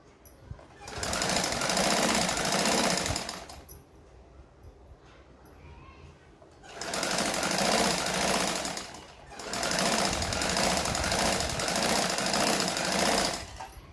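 A sewing machine double-stitches a blouse in three long, loud bursts of rapid mechanical chatter. Quieter handling noise fills the gaps between the runs.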